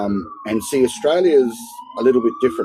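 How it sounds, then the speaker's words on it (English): A police siren wails in a slow rising and falling tone in the background while someone speaks close up over it. "Excuse the sirens, guys."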